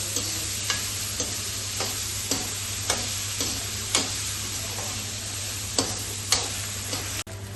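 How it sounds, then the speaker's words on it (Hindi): Onions frying with ginger garlic paste in a pan, stirred with a utensil that scrapes in steady, evenly spaced strokes over a constant sizzle, close and fairly loud with no talking. "तो अब प्याज फ्राई कर लेती हूँ और साथ में थोड़ा सा डाल दूंगी इसमें जिंजर गार्लिक का पेस्ट"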